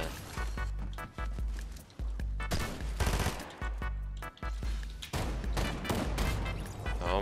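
Video game gunfire: rapid bursts of loud shots and automatic fire in quick clusters, separated by brief gaps, with heavy low thumps under the cracks and no speech.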